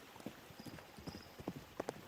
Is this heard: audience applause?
no